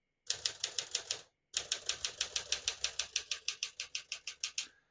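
A 1958 Smith-Corona Silent-Super portable typewriter typed steadily at close range, a quick even run of crisp key strikes, a short pause, then a longer regular burst that slows slightly toward the end.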